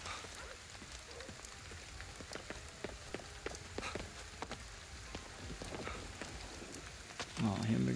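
Steady rain pours across a Tokyo street in Ghostwire Tokyo, a dense even hiss with scattered drips and patters, moderately loud and continuous, with a brief voice entering at the very end.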